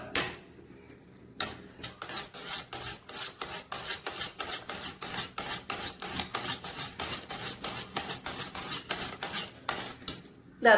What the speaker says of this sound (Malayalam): മൂന്ന് സ്പൂൺ തൈര് എടുത്തിട്ടുണ്ട് ഒരു സ്പൂൺ വെച്ച് ഒന്ന് അടിച്ചെടുക്കാം